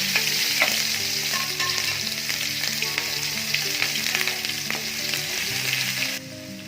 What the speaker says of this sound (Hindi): अभी लहसुन और अदरक का पेस्ट डालेंगे, फ्राई करेंगे